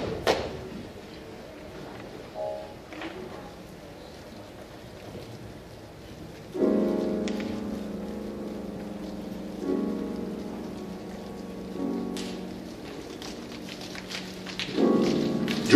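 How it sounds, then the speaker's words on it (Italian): Heavy rain pours down in a steady patter and hiss, growing denser and louder in surges partway through, like the onset of a great biblical flood. "Giù dal cielo allora prese a cadere pioggia di gran lena"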